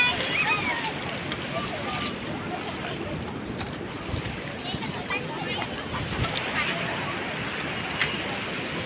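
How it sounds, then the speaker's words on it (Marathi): Sea waves and wind roar steadily at a shore, a continuous broadband wash with gusty buffeting against the microphone throughout. "हा समुद्र"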